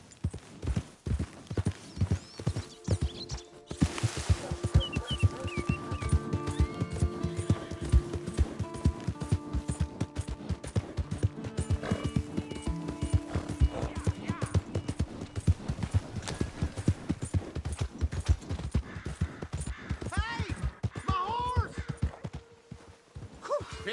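Horse hooves pound in a steady, rapid gallop in Red Dead Redemption 2, loud and close throughout, with a brief whinny and occasional voices over the hoofbeats.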